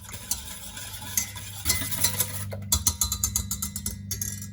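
A spoon stirring an egg, sugar and milk mixture in a pot on a stove over low heat, with scraping and clinks against the metal that grow busier and more rhythmic toward the end.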